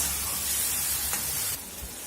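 Ginger and garlic sautéing in hot oil for a banana flower curry, giving a loud, steady close-up sizzle and hiss that eases slightly toward the end, with no talking.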